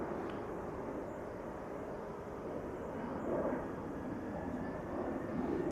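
Southwest Airlines jet departing Los Angeles for Salt Lake City, a steady broad engine roar at middle distance that swells slightly toward the end, heard alone.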